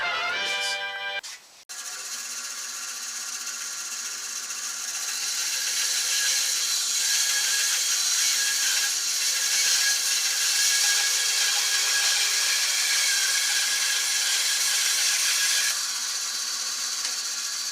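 A bandsaw cuts wood for a guitar neck pocket template, giving a steady, loud whine-and-rasp that runs continuously after a brief start-up, close and alone without talk.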